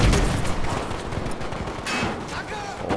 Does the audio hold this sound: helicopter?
no